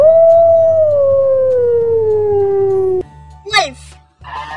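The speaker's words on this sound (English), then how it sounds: "Wolf." A wolf howls in one long, loud, slowly falling wail lasting about three seconds, followed by a short burst of other sounds and a brief stretch of faint noise.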